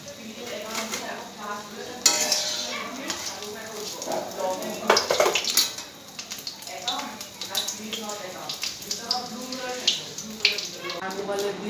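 Small-fish fritters made with ash gourd leaves are lifted one by one out of a frying pan. Utensils clink and scrape against the pan over a soft sizzle while someone talks throughout.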